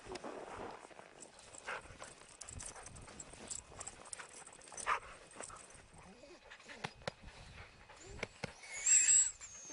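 Norrland husky sled dogs out on a run, their paws padding in a steady patter with scattered light jingles and an occasional yelp, mostly faint and close, with a brief brighter burst near the end.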